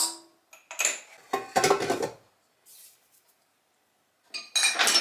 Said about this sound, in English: And give this a good mix first.